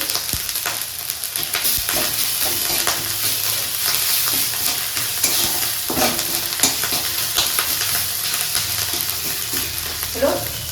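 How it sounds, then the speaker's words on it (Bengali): Panch phoron spices and ginger fry in hot oil, making a loud, crackling sizzle that runs steadily throughout, with frequent sharp pops and the scrape of stirring close by. "একটুখানি পাঁচ ফোড়ন ফ্রাই করে নিই তার মধ্যে একটু আদা দিয়ে দিলাম"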